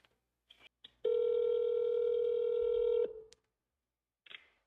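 A phone call being placed to a surgical associates office: a single steady dial tone holds for about two seconds, with short beeps before and after it, close and clear with no talking.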